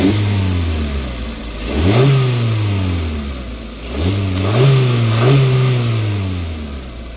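A Suzuki Baleno's engine cranks and catches, then revs up twice in strong rising bursts before settling back to a steady idle.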